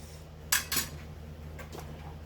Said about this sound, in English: I'm just giving it a little stir in here